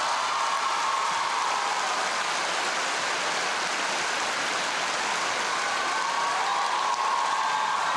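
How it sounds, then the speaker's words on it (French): Applause from a theatre audience at a comedy show fills the space as a continuous dense wash of many hands, steady and loud for several seconds with no speech. "j'aimerais qu'on l'applaudisse"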